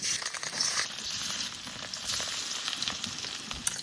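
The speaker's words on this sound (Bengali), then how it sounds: "কড়াইতে তেল দিয়ে দিয়েছি, তেলও গরম হয়ে গেছে, মাছের লবণ হলুদও মাখানো হয়ে গেছে," Salted, turmeric-coated fish frying in hot oil in a wok, a steady, close crackling sizzle with small pops, continuous and without talk.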